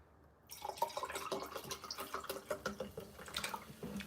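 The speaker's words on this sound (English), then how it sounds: "just pouring myself a drink." Liquid pours steadily into a glass for about three and a half seconds after a brief quiet start, with a close, continuous trickle and small splashy ticks.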